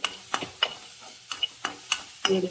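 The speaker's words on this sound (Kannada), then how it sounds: "ಈರುಳ್ಳಿಯನ್ನು ಚೆನ್ನಾಗಿ ಫ್ರೈ ಮಾಡಿ" Onions frying in oil and ghee in a pan, stirred in short scraping bursts with a soft sizzle underneath, several quick strokes spaced across a few seconds, close and fairly quiet.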